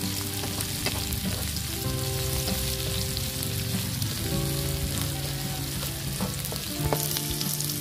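Ginger and onions frying in oil in a pan, a loud continuous close sizzle with crackling and occasional stirring clinks throughout.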